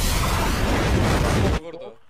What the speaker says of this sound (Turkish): Ben bir grenade sallayayım.